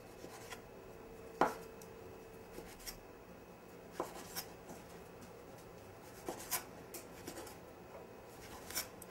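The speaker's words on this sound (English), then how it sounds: "So I'm just taking off all of the peel." Thick orange peel and white pith are torn away by hand: quiet, close rubbing and scraping with scattered small snaps and crackles, irregular and faint over a steady low background.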